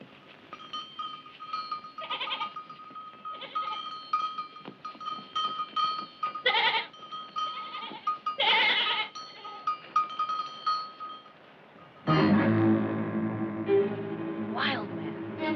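A goat bleats repeatedly in short, nasal bursts from an outdoor farm setting in a 1978 film, with other livestock sounds joining near the end.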